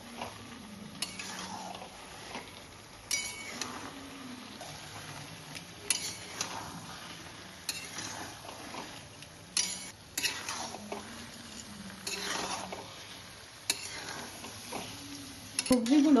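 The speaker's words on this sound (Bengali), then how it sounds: "মশলার সাথে যে সবজি এবং আলুগুলো আপনারা অ্যাড করলেন সেগুলো ভালোভাবে নাড়িয়ে চাড়িয়ে নেবেন" Repeated scraping and knocking of a spoon stirring vegetables and potatoes with spices in a pan for a bhetki fish curry, rhythmic strokes over a faint sizzle, with a quiet voice at times.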